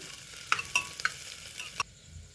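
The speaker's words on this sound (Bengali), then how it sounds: "সবজিটা একসাথে সব ভেজে নিচ্ছি একটু" Vegetables with chopped onion, ginger and garlic fry in a pan, a soft sizzle under several sharp clinks and scrapes of a stirring utensil against the pan, with no talking.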